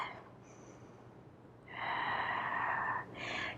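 A person breathes audibly during a standing Pilates workout with weights, a faint inhale followed by a longer, louder exhale and another breath, close and quiet.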